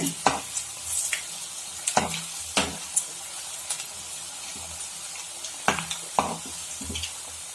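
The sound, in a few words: cabbage bonda frying in oil on medium flame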